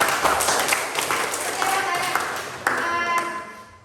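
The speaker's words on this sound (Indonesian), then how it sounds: "Berikan aplaus dulu ya" A classroom audience gives a burst of clapping after a presentation, the claps close and fairly loud, mixed with a voice talking over them.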